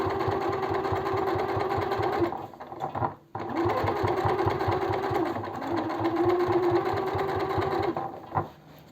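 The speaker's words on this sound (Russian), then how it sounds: "Все, и по кругу все отстрачиваем." Sewing machine stitching in a continuous run around the edge of a fabric zippered cosmetic organizer pouch, sewn from leftover fabric with beige thread, making a steady rapid mechanical whir that pauses briefly twice before resuming.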